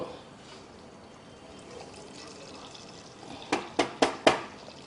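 Mustard seeds, cumin and curry leaves go into hot oil for a tempering. A soft, steady hiss builds into four quick, loud spluttering crackles near the end.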